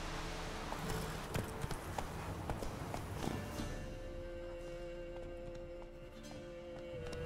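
A horse galloping in The Witcher 3 (2017, PC), rapid hoofbeats over a busy game soundscape that ease off and fade into quieter ambience near the end.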